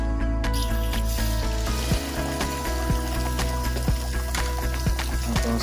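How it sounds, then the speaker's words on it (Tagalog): Water pours steadily into an aquarium tank after debris has been cleared, a continuous close trickling and splashing with a low hum underneath and no talking. "lalagyan ko na ng tubig."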